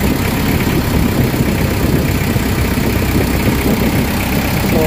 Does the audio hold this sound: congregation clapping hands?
no